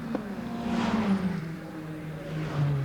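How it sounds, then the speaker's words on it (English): Saloon race cars from the Dunlop Saloon Car Championship at Mondello Park in 1996 stream over the finish line, with a steady engine drone and rising whine as they pass fairly close. "So the car is streaming over the finish line"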